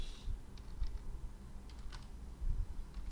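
Someone types on a computer keyboard in light, irregular clicks, quiet and close, with soft scattered keystrokes and no talk.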